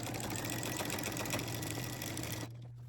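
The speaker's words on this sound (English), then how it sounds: "I will back stitch a couple, and then I'll go forward." A sewing machine back-stitches a few stitches on quilt binding, a close, dense mechanical whir running steadily before cutting off near the end.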